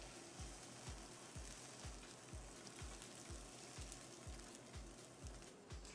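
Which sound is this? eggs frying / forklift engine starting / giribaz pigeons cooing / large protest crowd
eggs frying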